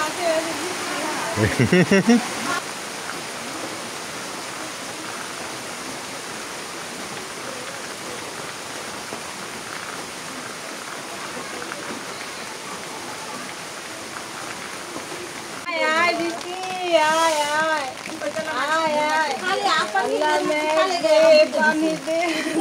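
Steady rain falls throughout on a morning, a broad constant wash with a voice talking over it at the start and again near the end.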